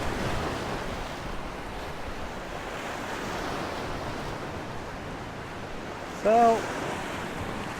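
Storm-driven waves from Tropical Storm Archer wash steadily along the Chesapeake Bay shore in a backyard, a constant broadband surf roar with wind buffeting the microphone; a brief voice cuts in near the end.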